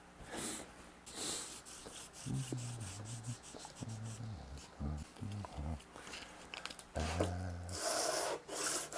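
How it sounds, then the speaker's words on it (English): Close rubbing and rasping strokes of a paper towel wiping a wooden guitar body with naphtha or denatured alcohol, in repeated bursts, with soft handling noises in between. "let's get a paper towel and wipe this down with some naphtha or denatured alcohol"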